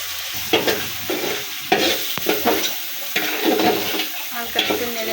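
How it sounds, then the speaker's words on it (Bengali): Rice goes into a hot pot for bhuna khichuri and is stirred, giving a steady close sizzle with scraping spoon strokes and wet rustling throughout. "এবার চাউলগুলো দিয়ে দিচ্ছি।"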